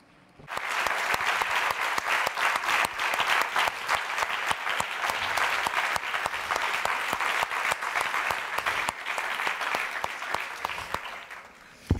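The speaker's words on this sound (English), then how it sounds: "a round of applause please for Mr. Verdon" An audience at a literary conversation event applauds an author in a sustained round of dense, steady clapping lasting several seconds, loud and even before tapering off at the end.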